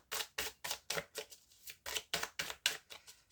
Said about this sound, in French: on va prendre l'archange Raphaël, donc un oracle de Dorine Virtue